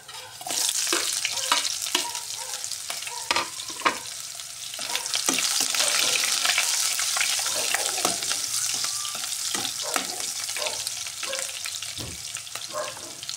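Garlic and onion sautéing in a pan for adobo, a loud, close sizzle and crackle with frequent scraping and clinking of a stirring utensil throughout, with no talking.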